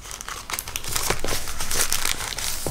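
Close, busy paper crinkling and crumpling as a paper envelope is opened and handled, continuous rustling with brief sharper tearing-like bursts and no talking.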